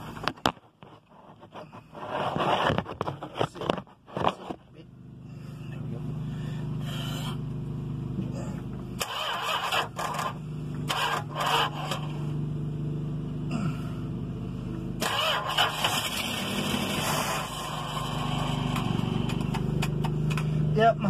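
A camper's engine cranks repeatedly with a fuel pump fault, a loud steady rumbling drone that keeps churning on and off, with brief scrapes and clatter near the start.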